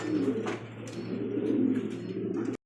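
White dragon pigeons at a pigeon farm coo in a low, continuous murmur that carries on steadily throughout, with faint rustling above it.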